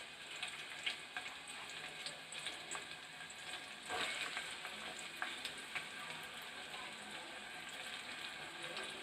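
Onions and green chilies frying in a pan, a soft steady sizzle with faint crackles and light stirring, low and close throughout.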